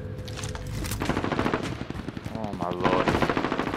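Rapid automatic gunfire from a Call of Duty Warzone match, dense bursts of shots close and loud throughout, with a voice briefly exclaiming over the shooting.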